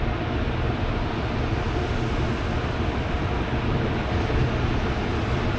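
Car wash rinse jets spraying water over a Tesla Cybertruck, a continuous loud rushing hiss of water on the body that stays steady and close for the whole stretch, with no voices.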